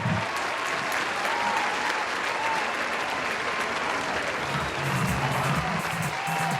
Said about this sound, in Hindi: जोरदार तालियों से स्वागत करिए मालिनी अवस्थी जी का।